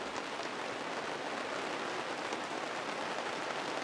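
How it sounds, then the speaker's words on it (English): Gentle early-morning rain falling outside, a soft, even hiss that stays faint and steady throughout with no other sounds standing out. "We're getting a nice, gentle rain."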